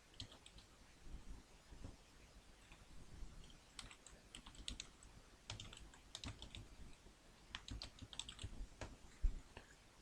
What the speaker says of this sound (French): on va tout simplement taper la commande apt-get install Apache2.